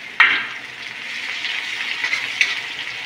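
Chillies and onion roasting in a pan give a steady, close sizzle that starts sharply and keeps up a bright crackle, with a second flare near the end.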